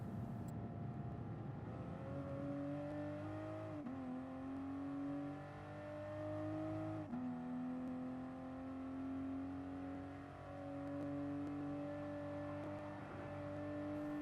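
Toyota GR Supra race car engine held at full throttle in Gran Turismo Sport on the Nürburgring, a steady loud drone with pitch rising through gears and brief dips at shifts, alone without voices.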